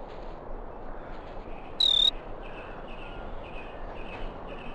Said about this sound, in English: Crickets are good luck.